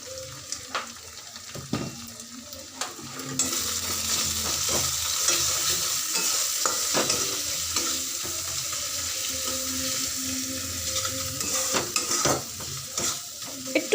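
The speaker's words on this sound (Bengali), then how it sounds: "মশলাটা কষে নিই" Spice paste sizzles as it is stir-fried in a pan, with repeated scraping and knocking of a spatula over a steady frying hiss that grows louder partway through.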